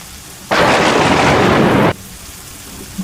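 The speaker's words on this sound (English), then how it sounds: "The rain kept falling outside as Tom and Ethan prepared" Heavy storm rain pours outside in a loud, steady hiss that starts abruptly, holds for about a second and a half, then cuts off to quiet.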